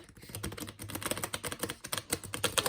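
Mini Tarot de Marseille cards riffle shuffled in quick fluttering bursts, a rapid crisp patter of edges close up, soft and steady with no voices.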